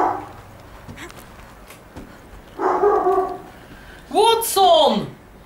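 In Horizon Zero Dawn, a dog gives a couple of loud, close barks and yelps in short bursts between quieter gaps, and a voice talks nearby.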